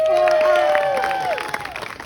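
An audience at a sideshow claps and cheers, a dense burst of applause with a whistle-like tone and crowd voices that fades slightly toward the end.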